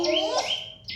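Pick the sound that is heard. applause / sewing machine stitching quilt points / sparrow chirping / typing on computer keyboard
sparrow chirping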